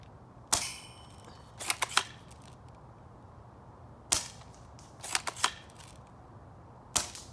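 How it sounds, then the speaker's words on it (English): A Lancer Tactical M82 airsoft sniper rifle in the Barrett .50 cal style fires while set to safe, giving sharp close snapping shots spaced a few seconds apart, each followed by quick mechanical clicks and rattles. "If you pull the trigger back far enough, you can actually still fire."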